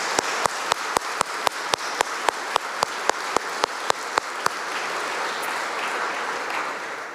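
Applause for staff and volunteers at a credit union's annual meeting: one pair of hands clapping in a steady, even rhythm, close and distinct, over a soft crowd hum that lingers after the claps stop.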